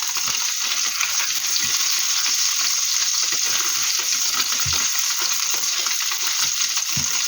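Ukrainian-style cutlets fry in a pan, giving a steady, close sizzle with a few soft low thumps and no talking.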